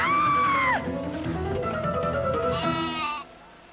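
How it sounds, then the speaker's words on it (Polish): Goats bleat loudly and close by, a long wavering cry followed by further overlapping bleats, then fade into quiet. "Kozy!"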